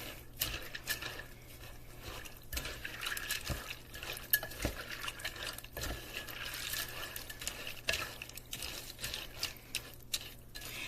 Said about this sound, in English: And now we're going to give it a stir.